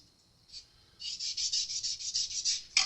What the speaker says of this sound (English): going through and cleaning up the frets. They're not in bad shape at all, like a 1500 sanding pad. It's just a Scotch-Brite